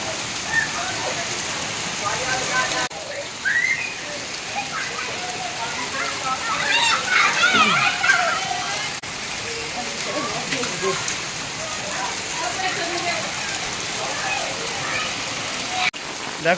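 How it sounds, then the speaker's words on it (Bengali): Heavy rain pours down in a dense, continuous roar lasting throughout, with people's voices faint underneath. "খুব বৃষ্টি হচ্ছে"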